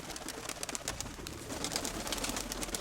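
Pigeons cooing at dusk at a long-kept pigeon yard, a soft steady murmur of several birds with faint high chirps over a constant low background hum, no talking.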